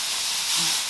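Mushrooms catch fire in an overheated pan, giving a loud, steady steamy hiss that swells slightly near the end, with no talking.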